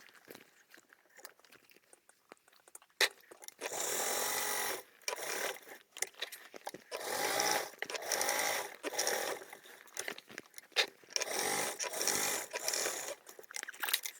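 Sewing machine basting the back panel of a large foldable tote bag, running in several bursts of steady stitching separated by short pauses, close and moderately loud.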